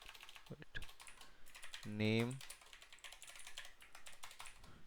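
Quiet clicking of computer keys while typing a JSON file during a coding tutorial, soft irregular taps with a brief tonal hum partway through and a voice faintly audible.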